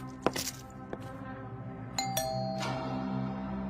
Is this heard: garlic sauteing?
no